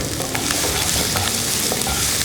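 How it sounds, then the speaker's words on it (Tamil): Chopped onions sauté in a pan toward golden brown, giving a loud, continuous crackling sizzle close by with faint stirring. "இது நம்ம வெங்காயத்தை வந்து நல்லா கோல்டன் கலராக வதக்கி எடுக்கணும்"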